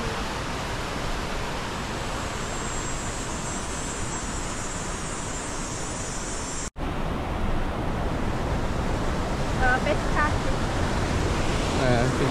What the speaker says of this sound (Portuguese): Olha lá, uma cachoeira.